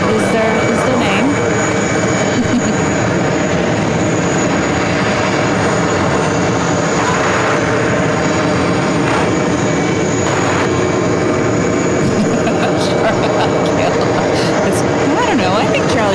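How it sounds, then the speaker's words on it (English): Lufthansa Boeing 747-400 in old livery, just landed near runway 31L at JFK; a continuous jet engine roar fills the background while people talk over it throughout. "Lufthansa plane 747-400."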